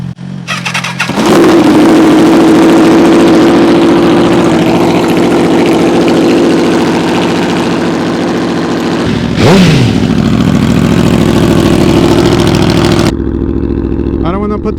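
A straight-piped Aprilia RSV4 motorcycle starts up and idles loud and close with a raspy, throbbing exhaust, then blips the throttle in a sharp rev before settling back to a rumbling idle that cuts off at the end.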